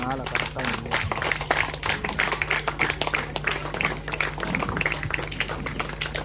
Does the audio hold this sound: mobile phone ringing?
no